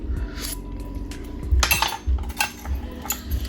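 Spoon clinking against a pot while Puerto Rican gandules soup is stirred in an Instant Pot, a few close metallic taps and scrapes over a low background hum.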